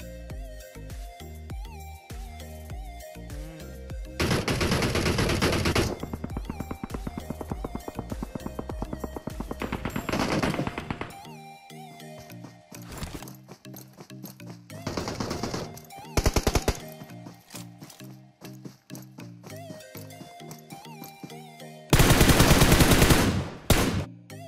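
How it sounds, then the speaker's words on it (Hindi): Video game gunfire rattles in rapid machine-gun bursts and scattered single shots, some loud and dense, others quieter, over game background sounds. "ये देखो मनीष भाई कहां से गोलियां मार रहा है"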